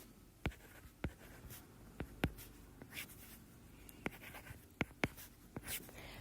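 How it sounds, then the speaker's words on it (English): Pen or pencil tapping and scratching on paper while numbers are written by hand for a primary productivity calculation, sharp isolated strokes at an irregular rhythm, close and quiet with no talking. "And then I'm going to write them from my question."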